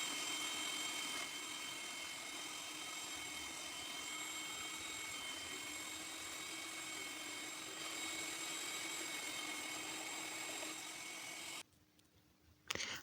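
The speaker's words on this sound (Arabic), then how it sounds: "خلاص كده ادينا بنفرمهم اهو" An electric mincer grinds potatoes with a continuous steady motor whine and churning hum, running alone at moderate level before cutting off near the end.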